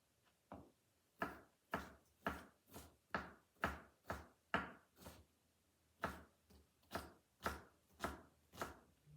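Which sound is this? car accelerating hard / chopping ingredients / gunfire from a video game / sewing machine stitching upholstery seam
chopping ingredients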